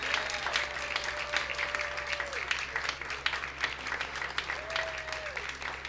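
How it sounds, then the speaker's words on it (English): Audience at a StorySLAM storytelling night applauds its crew, a steady dense wash of many hands clapping at moderate distance, with a faint voice or two drifting through the crowd noise. "please, one more round of applause for our whole crew tonight"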